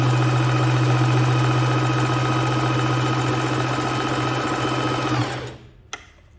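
A bernette b05 sewing machine runs a zigzag stitch, a loud steady motor whir with a constant hum lasting about five seconds before cutting off, followed by a brief click near the end.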